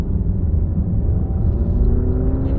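A 2022 Alfa Romeo Giulia Veloce accelerates from inside the cabin, a low engine rumble with a faint rising whir of the turbo spooling up, steady and moderately quiet throughout.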